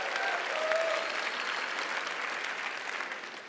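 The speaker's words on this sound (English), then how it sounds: "give him a round of applause" Steady applause from a crowd, a dense patter of clapping that holds evenly for a few seconds and tapers slightly at the end.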